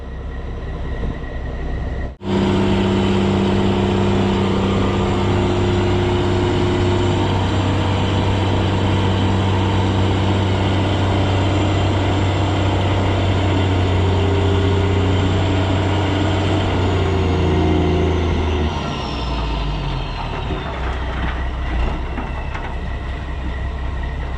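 A truck engine drones loud and sustained while pulling on a house during a home demolition, a heavy steady roar with tonal harmonics that holds for most of the stretch before easing off near the end, no talk.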